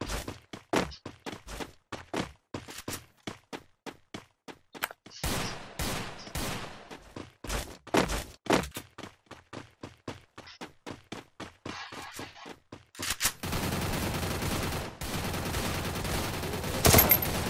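Rapid, repeated gunfire in a PC video game featuring the Wukong character, dense sharp shots in bursts and volleys with a sustained roar of fire near the end.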